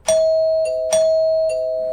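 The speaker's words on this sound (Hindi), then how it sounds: "कब से घंटी टनटना रही है, कोई खोल काहे नहीं रहा?" A doorbell rings twice in a row, each ring a bright ding-dong chime with a long sustained tone, loud and close with no voices over it.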